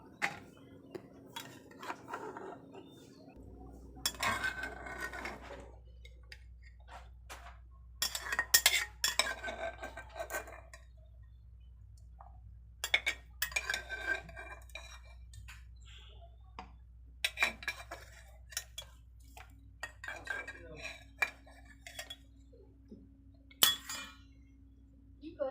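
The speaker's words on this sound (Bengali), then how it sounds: "পাত্রের মধ্যে দিয়ে আস্তে আস্তে ঢেলে নেব।" Hot jackfruit seeds are poured slowly into a metal vessel, giving scattered light clinks and rattles in small clusters, fairly quiet and close, with a low steady hum in the background.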